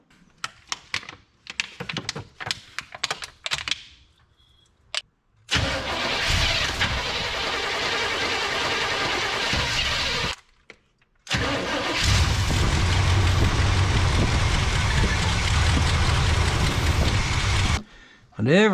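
A 1988 Chevrolet 3500 engine cranks after a series of sharp clicks, then fires and runs at a loud, steady rumble. It cuts out briefly, restarts and keeps running strongly before stopping.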